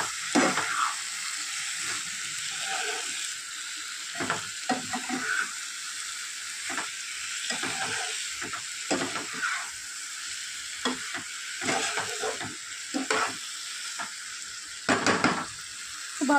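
Marinated mushrooms sauté with spices in a pan, a steady sizzle broken by repeated scraping stirs and light clinks of a utensil against the pan, close and alone without talk.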